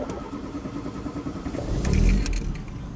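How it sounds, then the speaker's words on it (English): A Renault 21 GTS engine idles and then swells briefly as a little throttle is applied, a steady low rumble close by that rises and falls back over a few seconds. "We'll give it a little bit of throttle."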